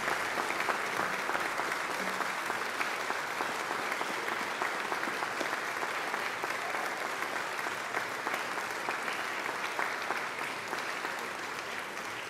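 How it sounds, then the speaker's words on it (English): A graduation ceremony audience of families and friends gives a long, steady round of applause, many hands clapping densely and evenly for over twelve seconds, easing off slightly near the end. "I invite you to give them a mighty round of applause"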